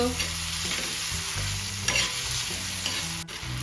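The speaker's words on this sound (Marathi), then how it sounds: "टोमॅटो पण छान परतून घ्यायचा आहे मेल्ट होईपर्यंत" Tomatoes and soft onions sautéing in a pan for chicken khaliya, a loud close sizzle with constant stirring scrapes and a few sharper clatters of a spoon, no voices.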